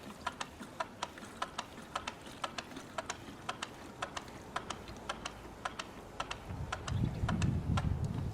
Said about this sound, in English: You will have to pump it a few times, of course, to get it started with the air in the hose